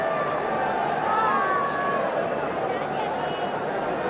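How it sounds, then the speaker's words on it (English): A large cricket stadium crowd at Eden Gardens, filling a big 150-year anniversary match, makes a steady, distant roar and babble that holds evenly throughout with no single voice standing out. "Very good crowd here."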